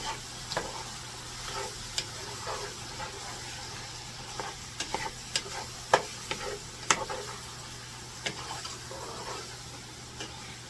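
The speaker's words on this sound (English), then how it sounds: "Then we're going to get all that mixed together." Bologna stew ingredients stirred together in a pan, with scattered scraping and clinking spoon strokes over a steady low background hiss for about ten seconds, no voices.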